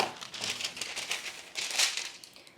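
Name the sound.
parchment paper sheet being laid in a baking dish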